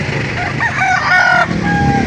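A rooster crows loudly and close among chickens at a livestock auction market in Lipa, one drawn-out call over a low background of clucking and murmur.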